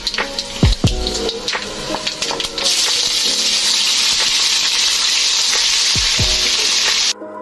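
Garlic ginger paste drops into hot oil while cooking a homemade fish dish; a few clinks and knocks lead into a sudden loud, sustained hissing sizzle that cuts off near the end.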